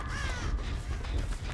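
Crows caw in the Dead by Daylight video game, harsh scratchy calls that rise over steady game ambience and a low rumble, fairly close and continuous through the short moment.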